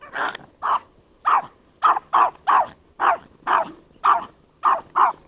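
Small dog barking in a quick, fairly regular series of sharp yaps, about fifteen barks close by and loud, with a growly edge and short gaps between them, no speech.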